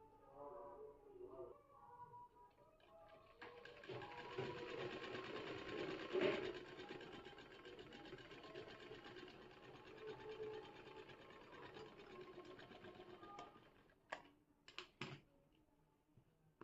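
A sewing machine runs steadily, stitching a katori (cup-style) blouse, with a continuous whirring hum that builds and holds for most of the stretch, then stops and gives way to a few sharp clicks and handling sounds at the end.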